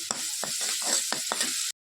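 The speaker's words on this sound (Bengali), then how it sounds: "একটু হলুদ, একটু নুন দিয়ে দিলাম, দিয়ে এবার একটু লাল লাল করে এটাকে ভেজে" Something frying with turmeric and salt in a hot pan gives a steady crackling sizzle, broken by several sharp scraping stirs of the spatula, close and fairly loud, then cutting off abruptly.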